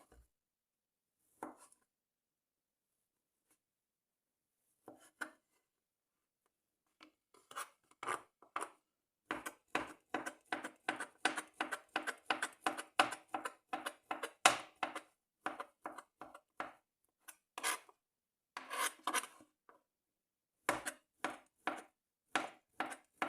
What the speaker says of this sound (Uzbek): Endi kolbasamizni ham xuddi shunaqa qilib to'g'rab olamiz maydalab